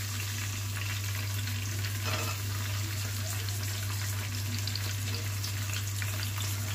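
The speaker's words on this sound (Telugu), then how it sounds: "ఉల్లిపాయలు కాస్త వేగాలి." Thinly sliced onions sizzle in hot oil for a chicken curry, a steady, close frying hiss with faint stirring scrapes and no talking.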